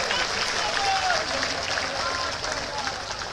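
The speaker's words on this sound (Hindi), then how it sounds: "उनका जोरदार ताली बजाकर अभिनंदन करें।" Steady, dense applause from a crowd of party workers greeting a political leader at a rally in Rewa, filling the whole stretch at an even level.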